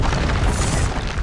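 Expulso blasting spell in Hogwarts Legacy, a loud, close, rumbling explosion boom that fills the moment with a dense burst of noise.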